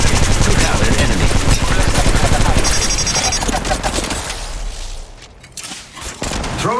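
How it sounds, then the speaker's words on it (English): Gunfire in the video game Apex Legends Mobile: dense, rapid automatic bursts blaze at close range for several seconds, then thin out and fade, with voice chatter mixed in. "The enemies are shooting at me."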